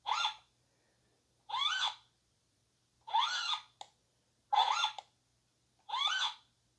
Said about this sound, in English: I guess it's just squeaks.